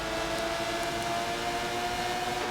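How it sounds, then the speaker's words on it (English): Aston Martin DBR9 race cars in a racing video game stream down the straight in a line, a steady, moderately quiet engine whine and drone without a break. "See these down the straight. There's a train of cars."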